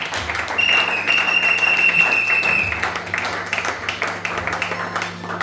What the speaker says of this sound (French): Est-ce que nous pouvons acclamer pour le roi de gloire?